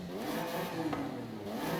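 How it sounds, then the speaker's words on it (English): A stock Toyota Camry engine in the racing game Forza Horizon 5 revs with a steady, buzzy drone likened to a three-cylinder, held at a fairly even pitch for a couple of seconds with no talk. "The standard sound... or the stock sound for this thing sounds very similar to like a 3-cylinder."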